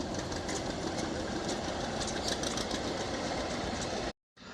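An antique Twin City JT tractor engine runs continuously close by at an antique tractor show, a steady rumble, loud and even with a rough chugging texture, then cuts off abruptly near the end.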